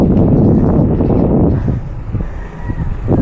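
Strong wind buffets the microphone during a bike ride along a seaside dike in Malabon City, a loud, steady low roar that eases slightly midway and continues throughout with no talking.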